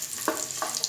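Ginger frying in hot oil for a coriander chutney, a steady close sizzle with two brief stirring scrapes, no voices.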